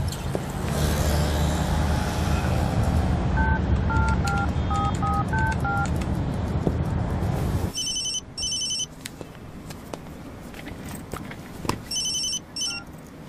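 Telephone keypad tones beep in a steady series as a number is dialed on a landline, over a constant low background hum, followed by sharper electronic ringing bursts later in the scene.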